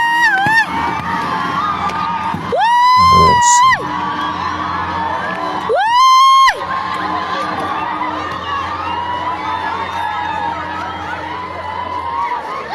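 A crowd shouts in Mekelle as mothers wail while their young people are taken away by truck, two loud rising siren-like cries standing out over a continuous roar of many voices.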